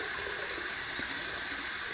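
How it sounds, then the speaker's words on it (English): Hot water runs steadily from a tap at a sink to warm a razor for shaving, a constant hissing gush at moderate level with no pauses or talking. "Let's heat up my razor. Some hot, hot water."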